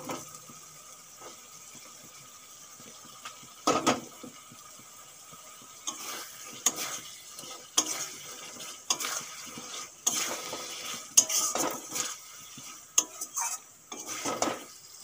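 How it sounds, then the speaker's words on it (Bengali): Potatoes fry with spices in a pan for an egg dish, heard as a quiet sizzle broken by repeated scraping and clinking stirs of a utensil against the pan, with no talking. "মশলার সঙ্গে আলু একটুক্ষণ ভেজে নেব।"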